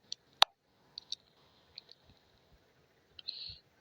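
Several sharp, quiet computer mouse clicks at irregular intervals, each a brief tick, with near silence between them and a short rustle near the end.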